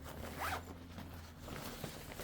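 A zipper on the back waterproof pocket of a Waterfly backpack is pulled in a short, soft rasp lasting about two seconds, close by and quiet.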